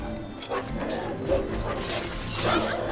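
Dogs snarl and bark amid a video game battle in Drakengard 3, as several scattered yelps and growls sit over a busy mix of game effects and music.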